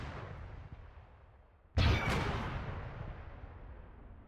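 A single heavy cannon-like shot from a weapon in a video game booms abruptly after a stretch of low rumbling ambience, then trails off in a long, fading roar.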